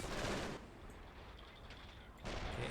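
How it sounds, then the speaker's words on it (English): Machine gun fire in the World War II strategy game Men of War: Assault Squad 2, set in a Kursk battle mission, comes as dense bursts at the start and end with a quieter rumbling battlefield between. "MG is engaging."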